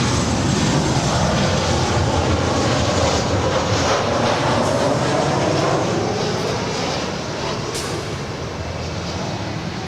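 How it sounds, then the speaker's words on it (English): A Southwest Boeing 737-700 arrives at Los Angeles International from Oakland with a continuous, fairly loud jet engine roar that fades slightly toward the end, with no voices over it. "here we have Southwest 2283 coming in from Oakland, California on a 737-700"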